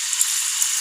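Peas frying in a pan for an aloo matar samosa filling, a steady close hiss of sizzling oil with no talk over it.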